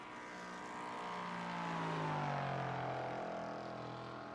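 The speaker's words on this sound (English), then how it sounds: "That motor sounds very tired if you listen to the high-speed revs." A video game LMP3 prototype race car engine whines at high revs, sounding tired, its pitch sliding down as it swells and fades, like a fast car passing on the Daytona road course, fairly faint.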